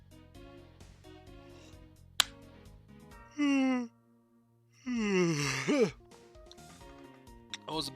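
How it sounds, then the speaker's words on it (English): A game character lets out a long, exaggerated yawn in two drawn-out stretches, separated by a short pause. Sharp clicks and soft background music sit underneath. "That was a big yawn."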